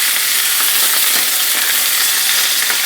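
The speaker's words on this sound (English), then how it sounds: "Saute these a little bit," Shrimp and mushrooms sautéing in a pan and stirred with a spoon, a loud, dense, steady sizzle with soft scraping movement running throughout, with no talk.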